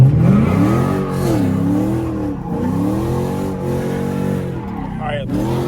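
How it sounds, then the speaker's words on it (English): Chrysler 300 with a 5.7 Hemi V8 revving loudly while drifting through a turn, the engine note climbing and dropping in sweeping waves, heard close from inside the car with talking over it. "You should be able to drift the turn, like actually drift it and hold it into the turn."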